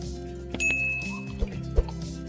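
A metal spoon clinks lightly against a glass as spoonfuls of sugar go into milk for an Oreo shake, giving a few short, sparse chimes over a low background.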